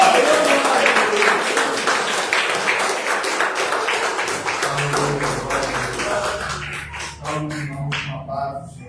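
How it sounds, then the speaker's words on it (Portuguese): Church congregation clapping joyfully, loud and dense rhythmic applause filling most of the clip before thinning out, with voices and singing coming through near the end. "Recebe o servo de Deus com palmas alegres para Jesus."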